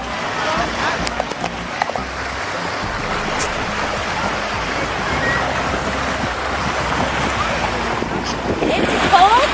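Steady ocean surf washing onto a beach in Melbourne, Australia, a continuous broadband rush with wind buffeting the microphone and a voice talking over it.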